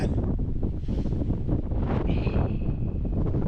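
Strong wind buffets the microphone on a hot mountain summit by a hermitage chapel, a loud continuous rushing roar with gusty swells throughout and no voices.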